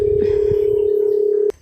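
A mobile phone borrowed to place a call gives a single loud, steady dialing tone that holds for about a second and a half, then cuts off abruptly, leaving faint room noise.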